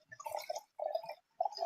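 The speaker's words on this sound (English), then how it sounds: "I'm gonna pour myself another glass." Wine glugs from a bottle into a glass in three short bursts separated by brief pauses, close and quiet.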